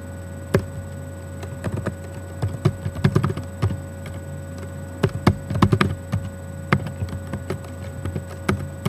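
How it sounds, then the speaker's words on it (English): A password being typed on a computer keyboard, heard as irregular bursts of close, crisp key taps with short pauses between them over a steady low electrical hum. "Type in your password."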